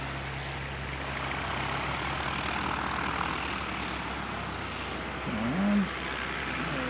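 A Qantas airliner taxis toward its gate at an aero club airfield, a steady distant engine drone held at moderate level throughout, with no talk.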